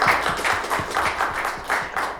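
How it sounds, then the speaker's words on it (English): An audience at the Hack Fukuoka meetup applauds the evening's speakers, irregular clapping from a small room-sized group, close and lively, with no voices over it. "another round of applause for both of our great speakers tonight"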